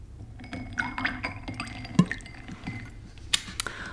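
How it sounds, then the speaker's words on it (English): A strong drink poured at a bar, with liquid trickling and dripping into a glass alongside soft clinks of glassware, close and quiet. "I'm gonna give you a nice strong pour"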